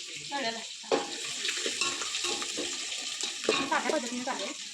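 Onion frying with whole spices in a pan on a home stove, sizzling and stirring close by, with background voices talking over parts of it.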